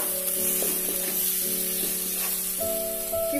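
Ginger-garlic paste and tomato-green chilli paste sizzle steadily in a hot pan, a constant close hiss with soft stirring touches and background music playing throughout.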